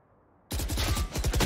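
Automatic gunfire in the shooter game Valorant: after a quiet moment, a loud close burst of rapid shots rattles in a fast even rhythm until the end.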